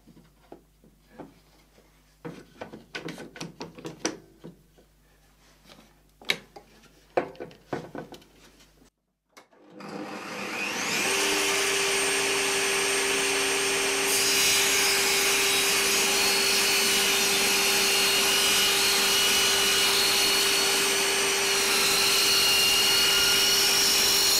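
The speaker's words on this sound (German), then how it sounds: "ansetzen, mit einer Schraubzwinge festklemmen und dann durch das Sägeblatt führen" A table or circular saw blade starts up and spins loudly at a steady pitch, cutting a clamped, guided wood workpiece for a shoe rack built from bulky-waste wood, after a stretch of scattered clattering handling noises.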